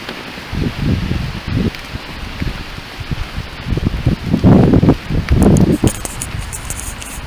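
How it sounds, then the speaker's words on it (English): Gusty wind rushes through trees beside an outdoor pathway, rising and falling in uneven bursts, loudest near the end, with no speech. "So I'm still feeling a lot of wind"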